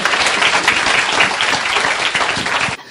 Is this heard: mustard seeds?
no